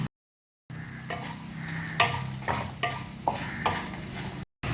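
Tamarind, chillies and urad dal sautéing in a pan over medium heat, with a steady soft sizzle and several sharp scraping stirs from a spoon against the pan, the sound stopping briefly near the start and end.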